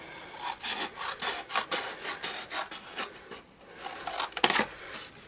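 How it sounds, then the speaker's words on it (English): Scissors snip through paper or card while cutting out a gift box, a quiet, close series of rhythmic rasping cuts that repeat steadily with short pauses between them. "So we've cut those 2 tabs, and now we're going to cut all of this section out."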